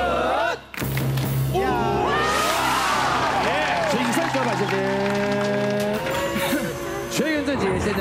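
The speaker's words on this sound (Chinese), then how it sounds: "准备先来个欢呼吧" Studio audience on a Taiwanese variety game show cheers and shouts loudly and continuously as a contestant goes for a 50,000 prize, with voices rising and falling through the crowd noise.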